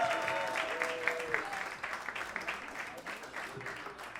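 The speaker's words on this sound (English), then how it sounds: "Keep those claps going. Clap it up for John Thorne, everybody!" An audience claps for John Thorne in a hall, a soft, steady patter of many hands heard at a distance, with faint tones and a bit of background voice mixed in.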